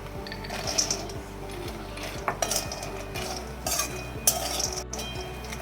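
Makhana and almonds dry roasting in a pan, stirred with a metal spoon that scrapes and clinks against the pan in a steady rhythm, with the nuts rattling softly, close and clear with no voice.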